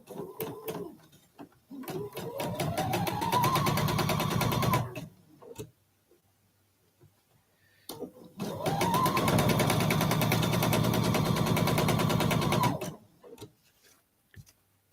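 A sewing machine stitching quilt fabric pieces, running in two long bursts of fast rhythmic needle clatter with a motor whine, separated by a pause with faint handling noises.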